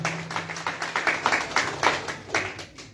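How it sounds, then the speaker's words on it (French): Applause during a church worship service, with a congregation clapping in quick bursts that rise and fall over a faint sustained low tone; some voices can be heard faintly underneath. "Applaudissement, ça c'est pour dire nous contents."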